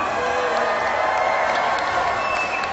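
A crowd cheers and shouts for Baxter, a competing dog at an SRS Super Dock dock jumping event, in a steady, loud, dense roar of voices that holds without a break.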